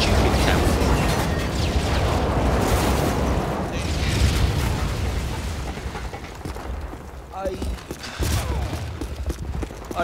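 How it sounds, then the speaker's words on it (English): Airstrike explosions in Modern Warfare 3 roll out as loud, dense booms and rumbling blasts, fading into scattered impacts and clatter toward the end. "Enemy airstrike approaching"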